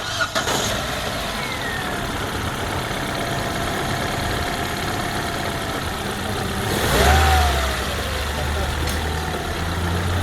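A Ford Mondeo 2.0 GLX with a rebuilt engine and 414,000 km cranks and fires partway through, then settles into a steady idle over a constant low background hum.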